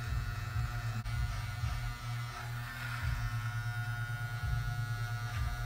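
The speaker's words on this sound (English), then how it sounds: "So I'm just gonna shave this section right here." A close electric razor buzzes steadily while shaving and lining up a beard, its motor drone pulsing slightly as it moves across the face, loud and continuous with no talking.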